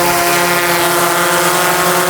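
Drone motors and propellers spin up together into a loud, steady high-pitched whine with a dense buzzing hum, heard close and continuous throughout.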